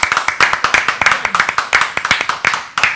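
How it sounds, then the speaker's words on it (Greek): Loud, close clapping from a studio audience in a Greek television show, honouring the orchestra and a clarinet player, with sharp, fast, irregular claps packed densely and steadily for the whole stretch. "Θα ήθελα όμως ένα μεγάλο χειροκρότημα"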